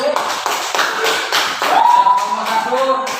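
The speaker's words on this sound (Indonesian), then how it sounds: "kasih tepuk tangan untuk kelompok 1" A classroom of students claps for a group after its presentation, a brief run of overlapping hand claps with a teacher's voice speaking over them.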